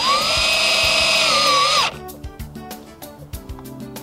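A power drill drives a number 8 self-tapping screw into a metal pedestal: a loud, close, high whine for about two seconds that bends down in pitch as it stops, followed by quieter clicks and handling noises.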